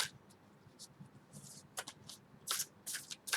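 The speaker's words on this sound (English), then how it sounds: "I'm just going to shuffle the cards for you." Tarot cards shuffled by hand in a quiet room, giving several soft riffling bursts and crisp papery flutters that grow more frequent and louder toward the end, with no voices.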